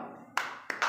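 Children in a classroom clapping hands during a joyful-learning activity: a few sharp claps, near and distinct, with brief gaps between them and no talking.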